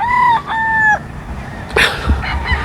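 A Sweater gamefowl rooster on a game farm crows loudly and close by, two drawn-out cock-a-doodle calls followed by a short burst of clucking and scuffling.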